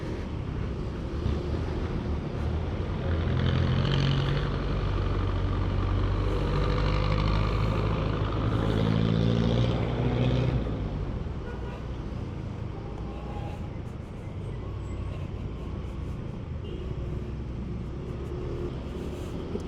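City road traffic surrounds a Honda Mio i125 scooter, with a steady roar of engines and wind buffeting the microphone, loudest in the first half and then easing into a continuous rumble.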